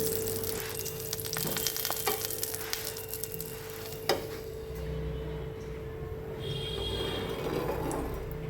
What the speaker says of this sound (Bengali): এই যে পরোটাগুলো অল্প অল্প করে ভেজে নিচ্ছি সামান্য তেল দিয়ে